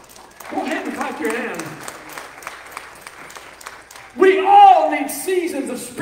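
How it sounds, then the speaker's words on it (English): During a church revival service, a congregation claps their hands in a steady rhythm beneath a strong voice and music, the claps swelling louder when the singing lifts near the end. "Go ahead and clap your hands."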